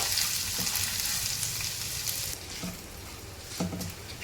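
A crushed spice mix for samosa filling fries in hot oil, giving a loud continuous sizzle at first that eases slightly, with a couple of brief stirring scrapes.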